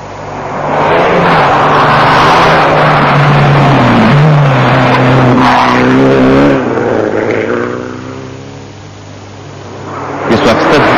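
A Mitsubishi Lancer rally car drives hard on the 1995 Kormoran Rally, its engine loud and close, revving up and down through gear changes before fading somewhat, while a commentator talks over it.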